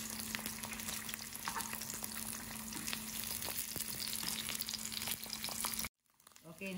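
Rice paper frying in oil for a Korean salad wrap, a dense crackling sizzle under a steady hum that cuts off abruptly near the end, then brief handling noise.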